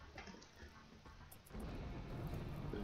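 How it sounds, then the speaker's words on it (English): Low, distant thunder rumbles from a dry thunderstorm in the video game RimWorld, a faint muffled roll that swells into a broader, steadier rumble. "It's a dry thunderstorm, that's why."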